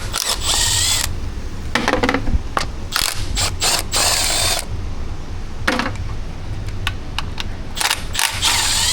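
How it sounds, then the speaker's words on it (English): A hand ratchet clicks rapidly in repeated bursts while loosening the perimeter bolts of a vehicle transmission pan, close and loud, over a steady background hum. "so while we're draining right there, pull some perimeter bolts out."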